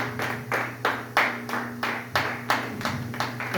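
A church congregation claps together in a steady rhythm, roughly three claps per second, with a sustained musical tone underneath and no talking.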